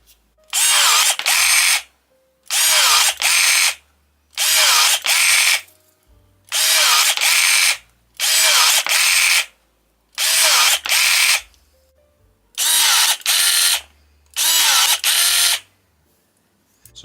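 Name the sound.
Parkside PAGS 4 A1 electric secateurs cutting a 1 cm stick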